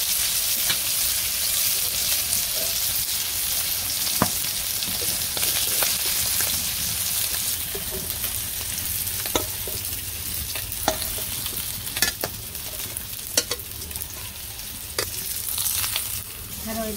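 Fish frying in a pan, a village kitchen setting, with a steady loud sizzle and crackle throughout and sharp spatters and stirring clicks scattered across it, no voices.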